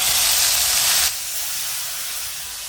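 Onion paste hits hot oil seasoned with mustard seeds, cumin and asafoetida for a whole-onion curry. A loud, bright sizzle bursts up for about a second, then settles to a softer hiss.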